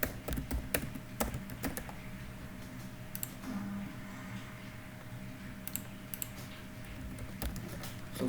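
Fingers type on a computer keyboard while filling in a sign-up form on a desktop application, producing quiet, irregular clusters of clicks and taps with short pauses between bursts.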